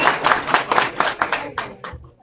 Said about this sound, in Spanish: Fuerte el aplauso para los candidatos.